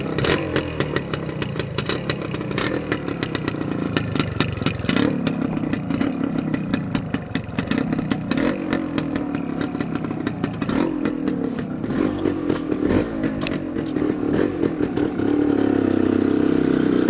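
A small 1974 Suzuki TS250 motorcycle engine runs steadily throughout, a rapid, loud, buzzing putter with slight swells in revs and no talking.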